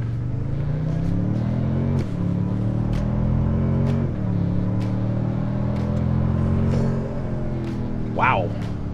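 A 2023 Toyota Sequoia accelerates hard from 0 to 60 on a closed road, its engine note climbing repeatedly and dropping at each of several gear changes, heard loud and close from inside with some voice underneath.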